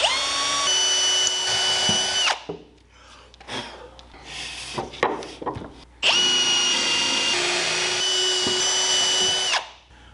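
A power drill bores a pilot hole through rough-sawn cedar for a rustic bench, in two long, steady whirring runs separated by a few seconds of knocking and handling noise.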